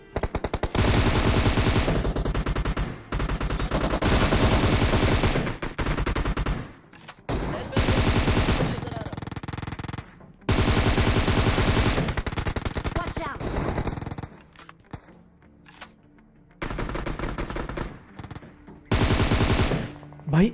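An M762 rifle fires in a PUBG mobile game, with loud rapid automatic bursts several seconds long, separated by brief gaps and quieter stretches.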